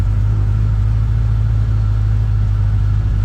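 A Chevy 350 V8 swapped into a farm truck idles steadily at about 750 RPM inside a garage, a loud, even low rumble with a constant throb and no revving or speech.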